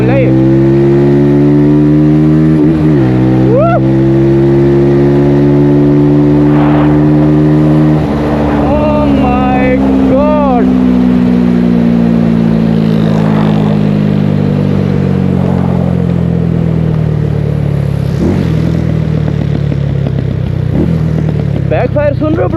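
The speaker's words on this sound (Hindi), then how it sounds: "बैकफायर सुन रहे हो ब्रो? ये बिकॉज उसकी वजह से है एनजी के इरिडियम लगाने के बाद से इसका बैकफायर आ गया।" Benelli TNT25 motorcycle in third gear revving hard with an iridium spark plug fitted, a loud continuous engine drone rising and dropping through shifts with brief popping backfire crackles, a voice talking over it.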